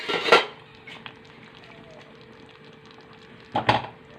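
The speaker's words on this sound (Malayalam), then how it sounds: "തേങ്ങ ഇട്ടിട്ട് നല്ലോണം ഇളക്കി യോജിപ്പിക്കാം" A spoon stirs grated coconut into thick arrowroot porridge in a pot, with two sharp metallic clanks against the pot's side, a quieter scraping stretch between them, and no talking.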